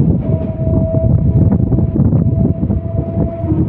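A MEMU passenger train on the Vijayawada to Machilipatnam line rumbles loudly and steadily from inside the carriage, with a thin sustained horn or whistle tone riding over the continuous low roar.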